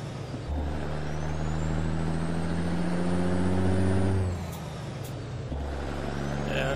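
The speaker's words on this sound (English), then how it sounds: "I'm going through all the gears right now" A heavy truck engine in American Truck Simulator drones and climbs in pitch as it shifts up through the gears, a steady close rumble that dips at each change, with a sharp hiss near the end.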